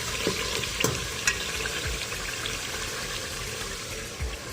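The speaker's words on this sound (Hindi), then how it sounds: "इसी घी के अंदर हम इसको 5 मिनट के लिए फ्राई करेंगे।" Chopped capsicum (shimla mirch) fries in ghee with a faint, steady sizzle and a few soft stirring clinks, with no voices.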